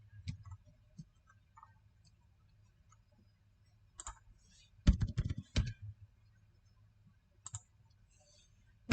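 Keystrokes on a computer keyboard come in sparse clicks, then a quick dense burst of typing near the middle and a few more isolated taps. The clicks are close and fairly quiet, with no talking.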